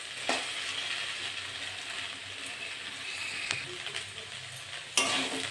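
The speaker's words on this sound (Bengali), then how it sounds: "নেড়ে চেড়ে একটু ভেজে নেবো।" Okra and potato fry in a pan, a steady soft sizzle with occasional scraping stirs and a few sharp clinks of the spatula against the pan.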